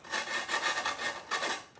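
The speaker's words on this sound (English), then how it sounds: "So then I just basically take a sanding block. You can get these Home Depot, anywhere. And I sand the edges" A sanding block rasps back and forth along the sharp edges of wooden stretcher bars, giving close, steady scraping strokes with a short pause partway through.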